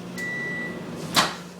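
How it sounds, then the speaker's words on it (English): A microwave oven heats pill powder, giving a thin steady tone for a moment and then a single short clack, all fairly faint and without speech. "Putting it in the microwave."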